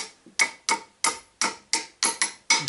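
Hammer tapping metal parts while adjusting the rear axle of a UAZ Bukhanka van, eight sharp ringing blows in a steady rhythm, close and loud with no talk.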